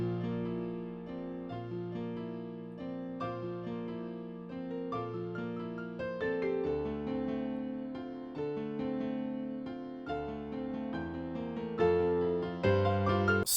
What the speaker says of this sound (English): So yeah, that is the piano melody.